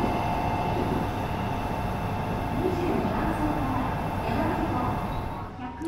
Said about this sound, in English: We are however catching one of the E3 series Shinkansen, built by Kawasaki and Tokyo from 1995 onwards